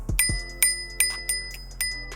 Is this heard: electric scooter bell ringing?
yes